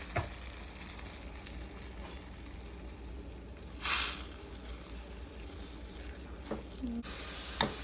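A pot of vegetable broth with black-eyed peas and collard leaves simmers, a low, steady bubbling hiss with a brief louder burst of spattering midway and a few soft knocks, quiet and close.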